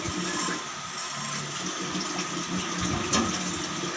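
Cooking oil left from frying onions is poured into a biryani masala mix for kacche gosht biryani, giving a steady, close liquid pour and sizzle-like hiss with a brief louder splash near the end, with no voices.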